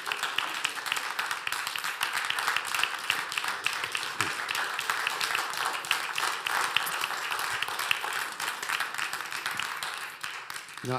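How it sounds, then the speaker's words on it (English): A church congregation applauding after a musical performance, dense sustained clapping from a full room, steady throughout before easing off at the very end. "I'm going to encourage people to clap to the level that you enjoyed Alyssa and Mitchell play"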